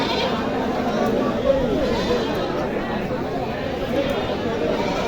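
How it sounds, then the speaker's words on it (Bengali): Female goats bleat at a crowded livestock market in Naogaon, Bangladesh, their wavering cries rising over dense crowd chatter and nearby talking voices. "সব মেয়ে ছাগল"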